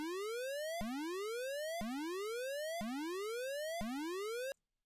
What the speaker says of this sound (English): So this pulse wave's frequency will range from 200 to 700.